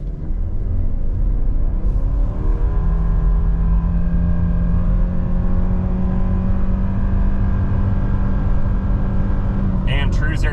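A 2024 Subaru Forester Sport in Sport Sharp mode with traction control off launches from a brake rev and accelerates hard from 0 to 60 at about 2,500 feet altitude. Its engine note rises steadily in one loud, continuous pull.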